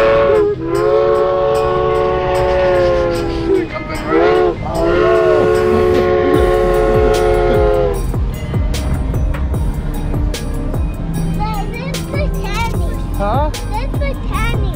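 A train at the Busch Gardens theme park rumbles past close by, its loud horn blowing in long sustained blasts before the clatter of wheels and cars continues.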